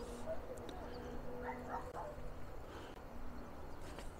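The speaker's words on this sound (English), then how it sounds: "Good sound of Yvonne barking in the distance" A dog barks a few times far off during a hike on the Levada dos Tornos trail from Monte in Madeira, faint under a low outdoor background hum.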